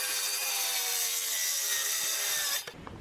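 A wooden board cut to 42 inches is sawn with a steady, even rasping drone, which stops abruptly near the end, followed by a couple of small knocks.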